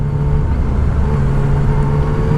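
A Yamaha Niken three-wheeled motorcycle being ridden gives a loud, close, steady engine drone with a low hum underneath, heard alone without talk.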